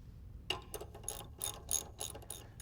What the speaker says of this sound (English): Then install the caliper mounting bracket to the spindle.